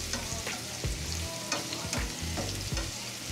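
Onion and garlic sautéing in a pan, a steady close sizzle and crackle of frying with repeated scrapes and knocks of a utensil stirring through the pan.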